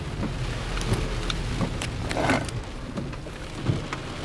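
Rain patters steadily on a car parked in a store parking lot, a dense, close wash of drops with scattered louder splats against the body, heard alone without talking.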